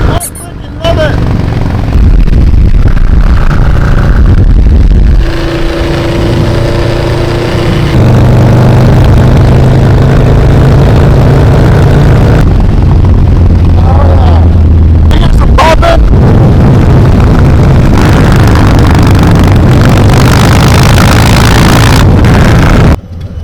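Motorcycle engine running steadily while riding after a rear tire fix, loud and continuous with heavy wind buffeting, gear-like tone shifts partway through, and a voice whooping and talking over it.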